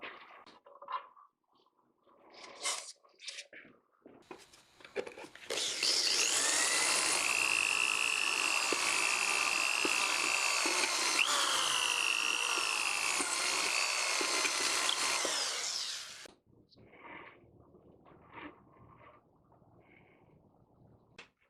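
A power drill runs steadily for about ten seconds, driving screws into a mandolin neck during a workshop test fit, its whining motor loud and close, with quieter handling clicks and knocks before and after.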